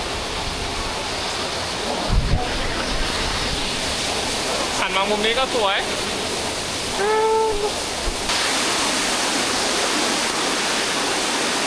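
Steady broadband rush of Sarika Waterfall in Nakhon Nayok fills the scene continuously at close range, while someone talks over it and a brief bird-like whistle sounds midway.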